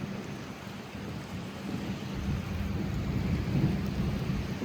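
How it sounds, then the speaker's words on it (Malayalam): Heavy rain falls in a Gulf city with a steady, dense roar, and a low rumble of thunder builds underneath. "ഇന്ന് ഒരു 10-15 പെയ്ത മഴയാണിത് മോനെ"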